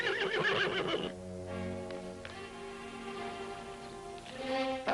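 Out on a Nevada ranch, a horse gives a loud whinny at the start, followed by softer whinnies. They sound from somewhere out back against a steady hiss like rain, with a few faint clip-clops.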